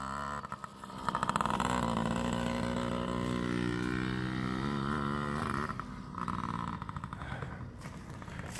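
A Yamaha PW50 kids' dirt bike ridden on a track, its small engine buzzing loud and close and rising and falling in pitch as it revs through the ride.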